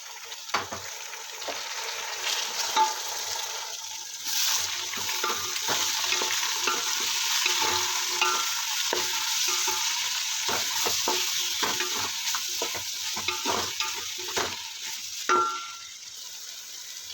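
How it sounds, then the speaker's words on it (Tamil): Onions sautéing in a pan for chicken biryani make a steady frying sizzle close by, broken by repeated clinks and scrapes of a spoon stirring against the pan, with no talking. "நல்லா வதக்கினா தான் பிரியாணி நல்லாயிருக்கும் நல்லா ப்ரௌனாக ஆகணும்"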